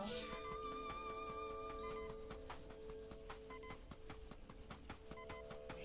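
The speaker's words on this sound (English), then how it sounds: "the beeping sound's not as loud" Faint electronic beeping in The Legend of Zelda: Echoes of Wisdom, quiet repeated pulses over sustained tonal game sounds.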